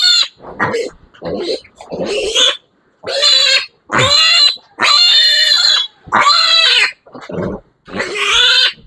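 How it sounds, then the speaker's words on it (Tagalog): A sow with her eleven piglets on a farm, giving loud, close bursts of squealing and grunting in a rapid, overlapping series with short pauses between calls. "kasi kawawa na si Mother Pig, oh"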